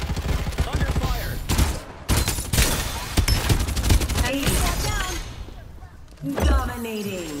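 Gunfire in the battle-royale game Farlight 84: loud bursts and rapid volleys of shots with sharp impacts, a brief lull, and a short voice near the end.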